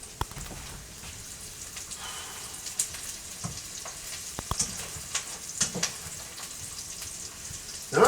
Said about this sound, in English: But we have some browning on those onions.